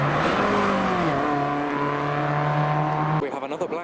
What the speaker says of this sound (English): We have another black GTR and black 350Z, 2 black V6 Japanese vehicles, both heading into Farnham.